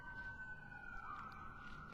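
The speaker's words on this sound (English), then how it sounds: "you can hear another siren in the background." A siren wails in the background near a Providence neighborhood crime scene, a steady wavering tone held at moderate, distant level for the whole stretch.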